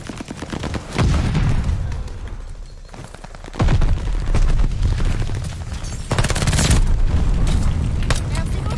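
PPSh submachine gun firing in Call of Duty, with rapid automatic bursts in several loud stretches, heavy recoil-driven rattling and booming game effects layered over a continuous battle din.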